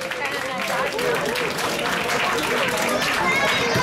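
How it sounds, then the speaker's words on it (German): A crowd applauds in a dense, steady wash of clapping, with some voices mixed into the noise. "Euer Applaus!"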